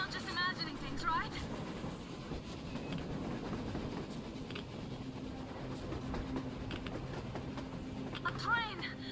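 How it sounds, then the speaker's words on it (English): A train in the video game Metro Exodus rumbles and clatters steadily with rhythmic rail noise, while voices speak over it and occasional electronic warbles sound. "A train! A damn train on the surface!"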